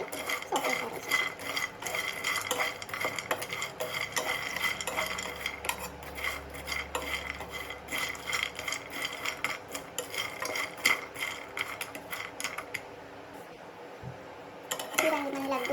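A utensil stirs walnuts, pistachios and cashews roasting in a pan, giving close, busy scraping and rattling against the metal with frequent clinks, partly under a voice.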